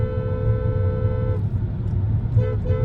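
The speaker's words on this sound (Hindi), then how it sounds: "मैंने हॉर्न बजाया, देखो कॉन्टीन्यूसली बज रहा है" A Hyundai Creta car horn at high altitude in Ladakh sounds a steady, continuous tone for over a second, cuts out, then returns in two short bursts over a low rumble of engine and road noise.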